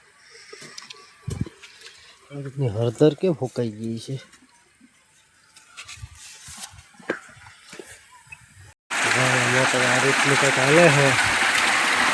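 Water gushes into a small household tank, a loud steady rush that starts abruptly in the final few seconds, after a stretch of people talking that continues over the flow.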